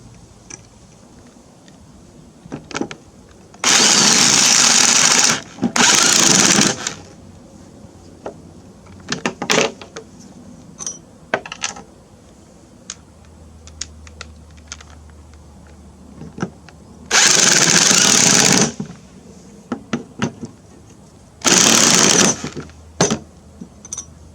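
Power tool driving bolts into unthreaded holes on a lawn mower deck to cut threads, four loud whirring bursts of a few seconds each, separated by quieter clicks and handling sounds.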